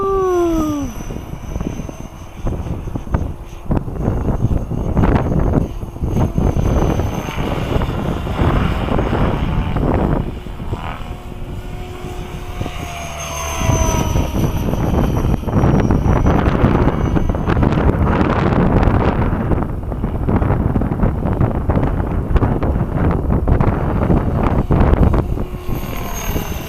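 A size 550 radio-controlled helicopter flies outdoors in strong wind, its rotor whine rising and falling over continuous heavy wind buffeting on the microphone, with no talking.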